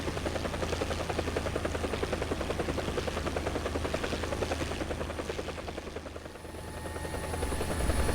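A BO-105 helicopter flies in the War Thunder video game, its rotor thumping in a fast, continuous pulse over a steady engine whine that dips briefly near the end and then swells again.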